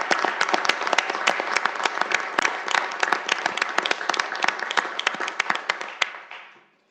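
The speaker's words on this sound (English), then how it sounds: "And would you recognize them with a round of applause?" A city council chamber audience gives a round of applause for graduates, with many distinct hand claps over a steady crowd wash that holds evenly, then thins and fades out at the end.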